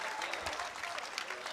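A pickleball crowd applauds at Grandstand Court during the Las Vegas Pickleball Cup, a steady, dense wash of clapping that holds for the whole moment without a break.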